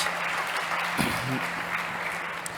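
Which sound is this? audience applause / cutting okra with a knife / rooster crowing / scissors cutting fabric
audience applause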